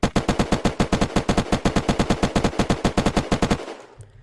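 Rapid automatic gunfire from the Zubeknakov and Maplestrike guns in the video game Unturned, about thirty loud, evenly spaced shots in a fast burst that stops abruptly and leaves a brief fading tail.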